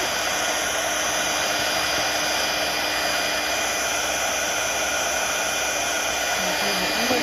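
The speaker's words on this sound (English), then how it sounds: "Melting the powder onto the card." Heat tool blowing hot air to melt gold embossing powder onto a birthday card, a loud, steady, close whoosh like a hair dryer running without pause.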